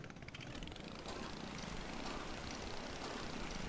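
A boat engine running badly, heard as a continuous rough, droning mechanical rumble with a faint uneven flutter, fairly distant and low in level, steady throughout with no talk.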